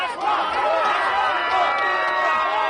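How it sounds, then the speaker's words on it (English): Protest crowd cheering and shouting outdoors, a dense continuous roar of many voices held at a steady loud level throughout. "Now you see all this cheering"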